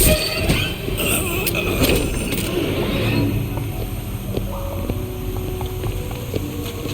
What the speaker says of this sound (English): Well, there's the tram.